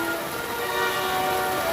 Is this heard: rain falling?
yes